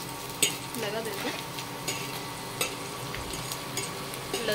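Cumin and mustard seeds in hot oil give a steady, faint crackling sizzle throughout. Light stirring clinks and scrapes of a pan sound now and then.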